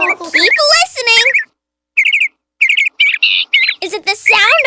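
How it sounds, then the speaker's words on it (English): A bird chirps in quick, bright bursts of tweets and trills, some rapid and some separated by brief silences, loud and close. "Is it the sound of a car honking or a bird chirping? A bird"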